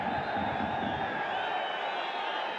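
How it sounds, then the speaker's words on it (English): Large stadium crowd at a football match voicing displeasure, a sustained roar of whistles and jeers from a distance, steady and fairly loud for the whole stretch. "Which the crowd certainly don't like."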